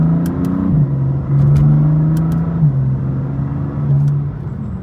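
A BMW M4 CS engine accelerating, its note climbing through gear changes and dropping briefly between pulls. A loud, close, brawny growl with no talk over it.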